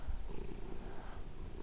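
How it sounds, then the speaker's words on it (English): A soppy domestic cat purrs close to the listener, a low continuous rumbling vibration with a steady pulsing rhythm and no talking. "This desperately soppy cat is Samson."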